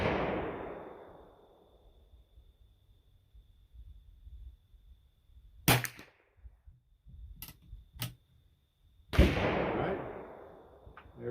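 Sharp gunshots from a rifle firing .25 Stevens rimfire loads made from Hornet brass with acorn blanks: a loud crack with long ringing decay at the start, two more sharp reports later with fainter ticks between, outdoors.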